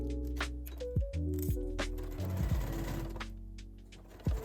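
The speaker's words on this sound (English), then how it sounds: "And then just baste to the marking." A sewing machine basting backpack fabric pieces with right sides together, stitching in short runs with starts and stops, mechanical clatter and a thunk at the end, up close.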